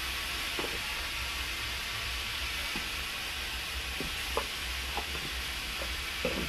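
Spinach curry with green chilies and turmeric is stirred in a pan: a soft, even sizzle runs throughout, broken by a few light, irregular scrapes of the spatula.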